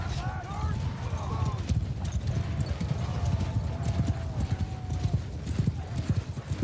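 Horses move in a medieval battle video game, with rhythmic clip-clop hooves and several neighs and whinnies, along with some background game noise.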